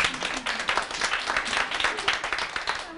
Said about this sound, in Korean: 박수 쳐도 됩니다.